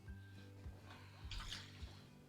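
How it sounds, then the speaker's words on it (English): Water poured into a blender holding diced onion in a home kitchen for barbecue oven ribs: a quiet, brief splashing pour in the middle, over a low steady hum and soft thumps. "we're going to throw a little bit of water in the blender"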